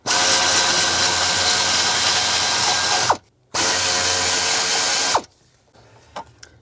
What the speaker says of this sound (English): I'm just going to use a 10mm socket. Take that bolt out.